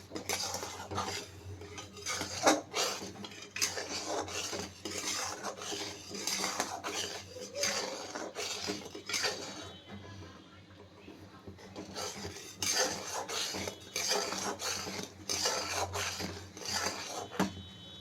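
Jaggery syrup is cooked and stirred in a pot for coconut sweets, with a steady scraping and clinking of a metal spoon against the pan that keeps going throughout at close range.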